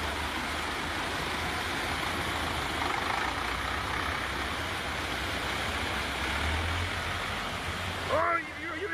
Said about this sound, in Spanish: el conductor de un tractor imprudentemente intenta cruzar una de las calles anegadas